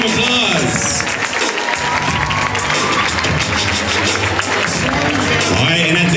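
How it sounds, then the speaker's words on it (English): Crowd at a youth gymnastics competition applauds and cheers steadily for an undefeated boys team, a loud continuous wash of clapping with shouts and voices mixed in throughout. "Give him a round of applause."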